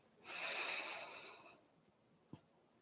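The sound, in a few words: breathing in during chair yoga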